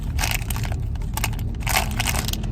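Close, steady crunching of a crunchy snack being eaten inside a car, with dense, rough bites that run without pause.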